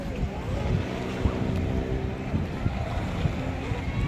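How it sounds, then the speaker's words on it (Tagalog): A small boat at sea chugs along amid wind buffeting the microphone and washing waves, a steady rumbling noise with occasional knocks. "Isang bangka."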